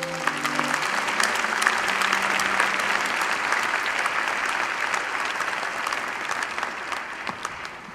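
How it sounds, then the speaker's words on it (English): Audience applauding graduates of Imperial College's Faculty of Engineering at a graduation ceremony, a sustained dense wash of clapping from a large crowd filling a hall, steady and fairly loud throughout. "Please join me in a round of applause to the graduates."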